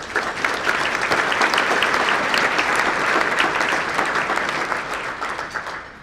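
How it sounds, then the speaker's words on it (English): An event audience gives a round of applause for sponsors at a public rollout event, a thick, even wash of clapping throughout that thins slightly near the end. "Let's give them a round of applause, please"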